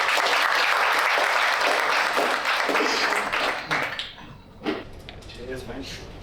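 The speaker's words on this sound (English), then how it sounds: "a round of applause" Audience applause fills a local government conference breakout session, loud and dense for about four seconds before fading into scattered claps and room noise.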